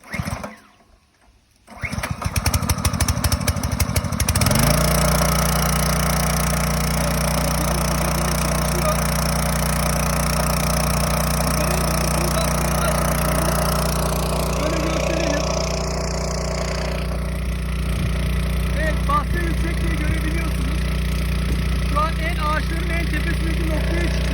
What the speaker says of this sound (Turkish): E, bu şekilde bir çalıştıralım motorumuzu.